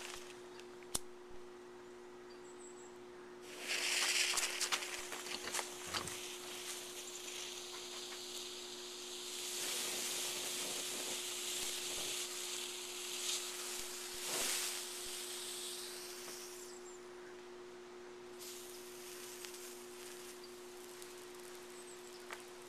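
Homemade thermite burns and melts outdoors with a steady hiss and crackle that swells in loud bursts, fading and flaring again over about twenty seconds.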